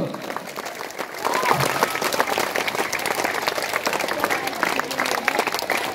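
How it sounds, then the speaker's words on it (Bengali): Sustained applause from an audience at a school event, a dense patter of many hands clapping that builds after the first second and carries on steadily, with some voices mixed in. "জোরে করতালি দিতে হবে কিন্তু।"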